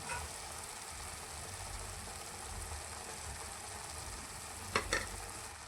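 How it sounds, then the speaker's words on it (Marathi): Spiced potato curry, with salt, turmeric and masala, sautés in a pan with a quiet, even sizzle throughout, broken near the end by two short clinks of stirring. "छानपैकी हे परतून घ्या सर्व"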